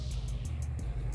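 A car engine in a video game rumbles low and steady for a moment, a dense continuous drone with faint pulsing at the top, no talk over it.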